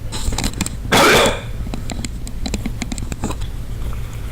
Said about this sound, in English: About to cough again.